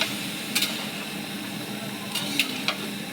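Goat meat braising in a pan, a soft continuous sizzle up close with a few sharp metallic scrapes of a stirring spoon scattered through.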